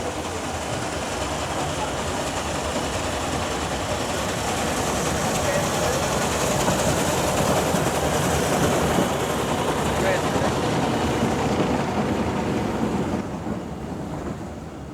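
LNER 0-4-0 tank steam locomotive No. 68089, the last of its type in British Railways stock, runs with a steady, loud, roaring rumble throughout that eases slightly near the end.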